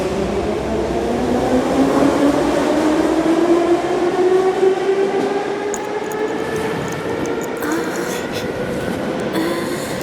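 An animated train rolls steadily along the rails with a rising, whining tonal drone and faint rhythmic clatter, loud and continuous throughout.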